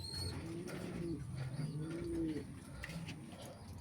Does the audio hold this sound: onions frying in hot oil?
no